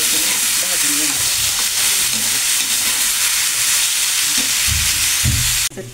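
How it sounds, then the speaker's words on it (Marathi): Onions roasting and frying in a pan for a Marathi-style egg chutney, giving a steady, close, loud sizzle with crackling and stirring scrapes throughout, ending in a sudden drop near the end. "कांदा भाजत टाकले."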